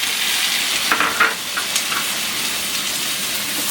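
Chopped tomatoes sauté in hot oil in a pan for butter chicken, giving a loud, steady sizzle and crackle with a few sharper spits, close up and with no voices.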